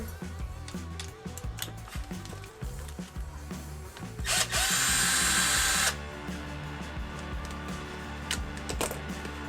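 A power driver unscrewing the broken axle of a Losi LMT RC truck, a whirring motor with a louder, harsher burst lasting a couple of seconds midway, close over a busy mechanical background.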